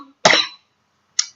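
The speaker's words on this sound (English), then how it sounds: "Sorry for the cough." A single sharp human cough, close and clear, followed by a short faint throat noise after a pause.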